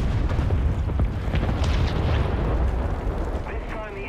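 Heavy bomb explosion in the video game War Thunder, a loud rumbling blast that sustains through the clip with crackling debris, while a player's voice talks over it.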